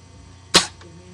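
An AGM L96 AWP airsoft sniper rifle fires a single sharp, loud crack followed by a short mechanical clack, alone against a faint hum.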